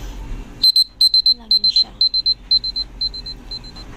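A kitchen alarm timer goes off while steamed puto cooks, giving rapid high electronic beeps in short repeated bursts. Someone talks briefly in the background.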